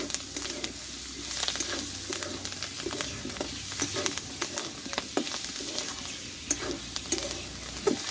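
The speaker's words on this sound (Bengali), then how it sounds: "এবার ওপর দিয়ে আমি কিছুটা ধনে পাতা দিয়ে দেবো দিয়ে আবারও আমি কিছুক্ষণ এইভাবে আমি নাড়াচাড়া করে নেব" A spring onion and egg curry with fresh coriander leaves is stirred and fried in a pan, giving a continuous close sizzle with scraping stir strokes and occasional light clinks.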